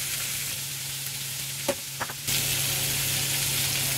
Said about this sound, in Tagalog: Ito na yun ang ating sizzling beef.